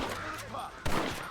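Gunshots in the video game Red Dead Redemption Remastered, a cluster of sharp shots with a loud blast near the end, mixed with game sound and a voice talking.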